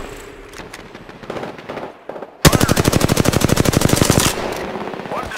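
Automatic weapon fire in the Apex Legends video game, a loud rapid burst of evenly spaced shots lasting about two seconds, preceded by quieter game sounds and movement.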